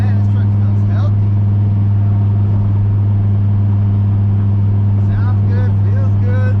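A turbocharged Chevrolet Silverado pickup with a newly installed muffler rumbles in a deep, steady drone while driving on rain-wet roads, as a person talks over the engine.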